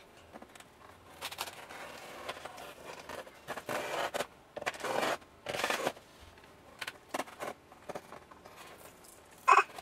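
Scissors cut and scrape through a cardboard book shipping box, heard as short, close, irregular bursts of slicing and rasping with quiet gaps between them.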